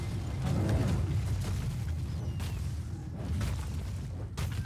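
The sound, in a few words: keep destroyed in Heroes of the Storm video game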